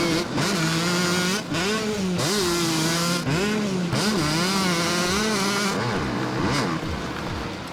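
Motocross bike engines in the MX vs. ATV Alive racing game rev and whine continuously, pitch rising and falling with gear shifts and throttle, loud and close with several machines overlapping and no talk.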